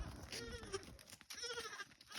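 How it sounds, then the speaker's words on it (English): Herded goats, a mother and a male among them, bleat in a steady chorus of overlapping wavering calls at close range over a busy outdoor background, with no talk. "There's the mama goat, the matriarch. There's the male goat."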